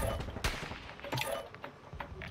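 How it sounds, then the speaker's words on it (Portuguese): Gunfire in Call of Duty: Modern Warfare II: several sharp shots crack out in irregular bursts over a busy game soundscape, one close and loud, others more distant. "Não, tem tiro."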